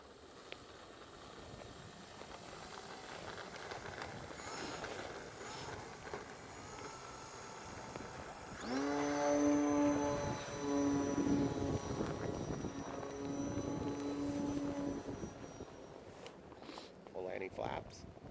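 A Horizon Hobby Timber 1.5m RC airplane with a 13.6 prop flies over snow in a light breeze, its motor rising into a strong, steady whine with clear harmonic tones partway through, under light wind.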